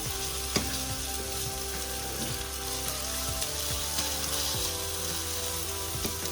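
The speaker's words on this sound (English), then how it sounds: "So let's roast this for a while and let it cook for some time." Dal masala roasting in a pan, a continuous hissing sizzle with occasional sharp pops and clicks of stirring, close and steady throughout without any speech.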